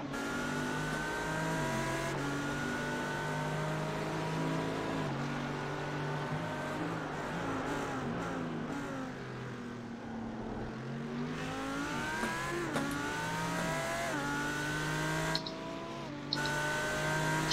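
An Audi GT3 race car engine in a sim racing game at Spa roars steadily, climbing through gears in repeated rising sweeps with shifts and brief lifts, loud and continuous with no talk.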